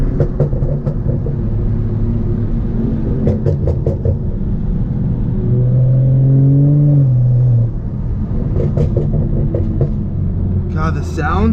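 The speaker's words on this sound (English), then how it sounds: "the sounds of this car is seriously insane" A sports car engine drones steadily on a canyon road, then revs up and climbs in pitch before dropping back, with people talking over the rumble.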